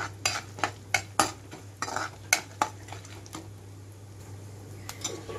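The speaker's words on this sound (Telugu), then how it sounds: "కలర్ మారే వరకు వేయించుకోవాలండి" Peanuts and lentils are dry-roasted in a pan, with a spatula clinking and scraping against the metal in a few sharp, irregular strikes over a faint low hum. The sound is close and fairly quiet, with no talking.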